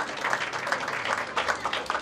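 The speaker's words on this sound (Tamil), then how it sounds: "உங்களுடைய பலத்த கரகோஷங்களோடு வரவேற்பதில் பெரும் மகிழ்ச்சி அடைகின்றோம்" A crowd applauds steadily, dense clapping that holds at an even, fairly loud level the whole time.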